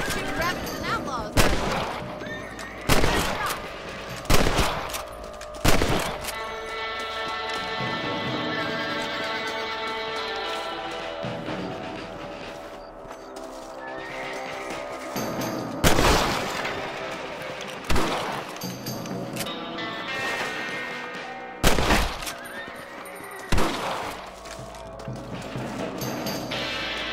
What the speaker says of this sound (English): Shooting rabbits and outlaws.